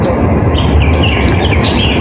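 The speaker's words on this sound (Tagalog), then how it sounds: "Tapos yung background music niya, Ang ibon." Outdoors, high birds chirp and tweet repeatedly in the background over a dense, steady rumble of ambient noise.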